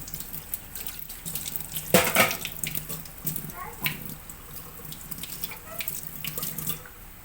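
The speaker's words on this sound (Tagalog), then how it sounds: "Nagugas ko plato sa akong mga ginamit." Dishes and plates are washed under a running kitchen tap, water hissing steadily with a louder splash and clink early on, while a voice speaks faintly in the background.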